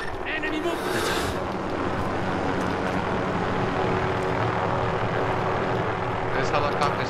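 A helicopter drones steadily overhead in Warzone, a continuous rotor and engine rumble holding level for several seconds while battle ambience murmurs underneath.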